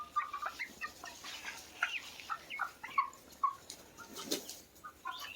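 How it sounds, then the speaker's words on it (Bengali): Farm chickens clucking in a shed during hot weather, a scatter of short repeated clucks and calls at moderate distance, with a brief flutter of wings near the end. "এই যে দেখুন মুরগিগুলো, দেখুন"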